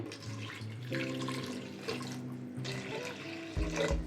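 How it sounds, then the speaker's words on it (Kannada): Water runs and splashes steadily into a vessel of rice for a few seconds, two glasses of water to one of rice, with a brief louder gush near the end; no talking. "ಈಗ 1 ಗ್ಲಾಸ್ ಅಕ್ಕಿಗೆ 2 ಗ್ಲಾಸ್ ನೀರು ಹಾಕ್ಕೊತಾ ಇದ್ದೀನಿ"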